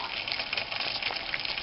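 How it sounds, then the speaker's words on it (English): A cup of water boiling on a penny stove, a steady close hissing, bubbling rush with no pauses. "And in just a shade over 3 minutes we get a nice boiling cup of water."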